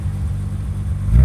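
Engine of a BMW 323 E30 with a running fault, a loud low rumbling idle that rises into a brief rev at the end.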